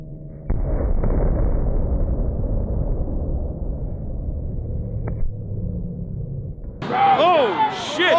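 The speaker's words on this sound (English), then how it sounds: "those are just flashbangs" A flashbang grenade goes off with a heavy boom at a Los Angeles street protest, its rumble slowly fading, followed by a smaller pop and then people shouting nearby.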